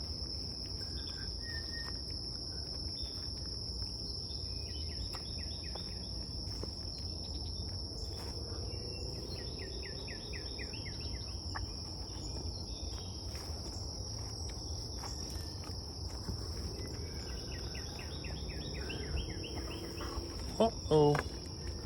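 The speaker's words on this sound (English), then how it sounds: "There's lots of bugs out here." Crickets and other insects chirp steadily outdoors, a continuous high shrill trill with layered pulsing calls, fairly faint and ambient, with a few louder knocks near the end.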